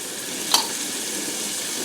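Garlic hits a pan of softened vegetables with a bright hiss; a steady broad sizzle holds throughout, marked by one short sharp tap near the middle, no talking.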